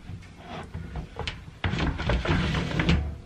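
Wardrobe doors and drawers being fitted and moved, with a run of knocks, clunks and scraping handling noises, a louder thud near the middle and busy banging that follows.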